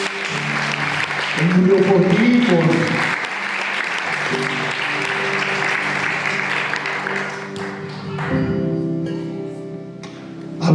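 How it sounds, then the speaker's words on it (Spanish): A congregation applauds during a Spanish-language sermon, a sustained wash of clapping that runs under a speaker's voice and organ-like sustained tones, thinning toward the end. "Si es así, dale un aplauso."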